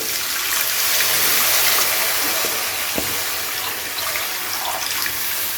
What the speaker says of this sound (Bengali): এবারে দিয়ে দেবো ফাইনালি এখানে গ্রেভির জন্য জল।